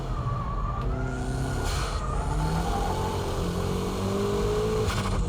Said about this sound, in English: Just pull the old e-brake.